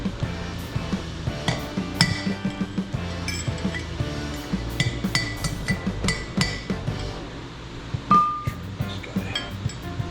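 Metal-on-metal hammer strikes drive a taper bearing race out of a 2002 Ford Ranger front brake rotor, a long run of sharp ringing clinks at an uneven, steady pace, close and loud, with no speech.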